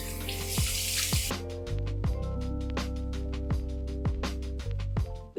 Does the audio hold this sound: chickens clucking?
no